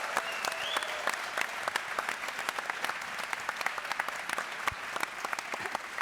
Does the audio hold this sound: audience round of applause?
yes